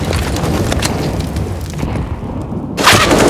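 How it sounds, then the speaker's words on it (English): A frag grenade detonating in Counter-Strike during a DreamHack Masters match, a loud booming blast with rumbling aftermath that cuts briefly to near silence before another sharp burst of noise. "Frag grenade does a little bit of damage"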